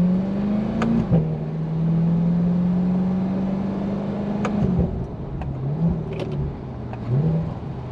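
A Chevrolet C8 Corvette 2LT with a dual-clutch transmission in manual paddle-shift mode accelerates hard, its engine note climbing then dropping sharply at each quick gear change, several shifts in a row heard from inside the cabin.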